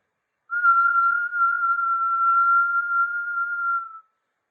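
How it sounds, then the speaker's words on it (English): During a yoga breathing exercise, one steady, clear whistled exhale holds a single pitch for about three and a half seconds, close and alone, before cutting off. "And then exhale with a whistle."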